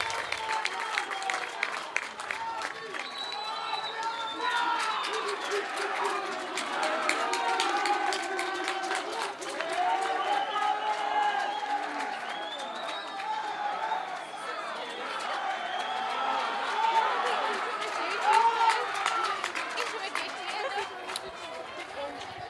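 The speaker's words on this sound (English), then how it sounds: "you can hear the cheering there from the crowd when the Muir boys are running on" Crowd cheering and applause at a school rugby match between Muir College and HS Pearson as the teams run onto the field, a steady broad roar of many voices with clapping and scattered calls throughout.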